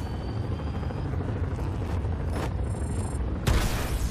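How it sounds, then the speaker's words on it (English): Explosion of a drone being hit in Batman: Arkham Knight, a deep rumbling blast rising out of a constant roaring engine drone, with a sharp burst near the end. "Drone's been hit. Cool guys fly away from explosions."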